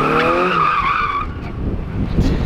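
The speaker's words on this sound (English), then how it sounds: "this is my last donut in this car" A Nissan S13 spins a donut, its tires squealing loudly in a wavering tonal screech with engine roar up close, giving way to a rough, rumbling scrub of rubber.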